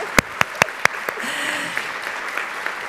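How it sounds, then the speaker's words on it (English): Audience applause for Dr. Lisbeth Quesada Tristan at a talk, opening with a few sharp, close, evenly spaced claps before a wider round of clapping swells and continues steadily. "give a big round of applause for her"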